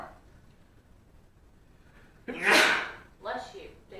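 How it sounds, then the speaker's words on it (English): One loud indoor sneeze bursts out after quiet room tone during a Lego building session, followed by a smaller breathy sound. "Daily sneeze."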